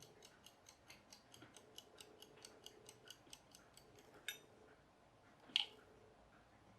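Soft, regular clockwork ticking, about two ticks per second, faint and close, then a pause with a couple of sharper clicks.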